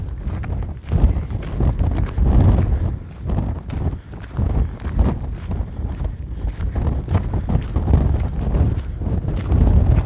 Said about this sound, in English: Also very windy.